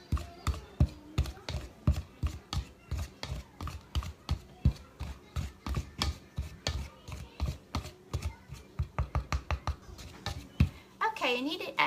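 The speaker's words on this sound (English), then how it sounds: "I have a 1/4 cup of shortening that I'm just going to cut into the flour" Shortening being cut into flour with a pastry tool in a mixing bowl, a steady run of quick, close rhythmic chopping thuds repeating throughout, with a brief voice near the end.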